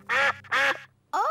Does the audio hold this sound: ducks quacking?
yes